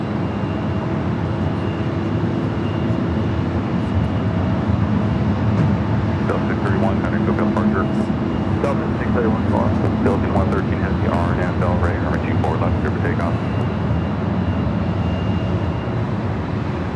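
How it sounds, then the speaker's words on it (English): A heavy airliner bound for Manila takes off from runway 24 Left at Los Angeles airport. A loud, steady engine roar fills the whole stretch, with voices faintly mixed in. "Next takeoff lining up."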